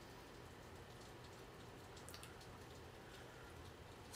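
Steady rain falls in a continuous soft hiss, with a fine patter of drops spread evenly across the whole stretch. It is faint and unbroken, with no voices.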